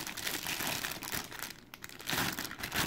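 Crinkling plastic bag, a steady rustle and crackle that dips briefly midway before picking up again, close and fairly loud.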